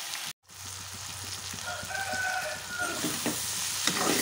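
Broad beans frying in a pan produce a steady, close sizzle after a brief drop-out near the start. The crackle grows slightly louder toward the end, with a rooster crowing faintly in the background.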